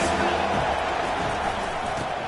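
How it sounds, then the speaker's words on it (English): A football stadium crowd roars steadily and loudly behind the defense on a third down, a dense, continuous wall of cheering with a commentator's voice talking over it. "Big third down as the crowd gets behind this defense."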